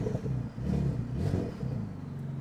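A supercar engine given a short rev, a low throaty rumble that swells and eases over a couple of seconds, close and moderately loud, with no talking.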